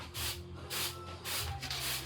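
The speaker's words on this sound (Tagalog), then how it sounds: "nagsasharpen siya ngayon ng kanyang knife" A knife is sharpened in repeated slow strokes, four rhythmic rasping scrapes at an even pace, fairly faint and close, with a low hum underneath and no talking.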